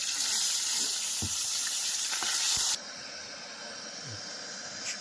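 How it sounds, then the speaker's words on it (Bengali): Fish frying in smoking hot oil in a home kitchen, a loud dense hiss that cuts down sharply partway through to a softer continuous sizzle, with a few faint clinks. "দেখ এবারে মাছগুলো, তেলে কি ধোয়া বেরোচ্ছে রে। মাছগুলো একে একে ছেড়ে দিলাম।"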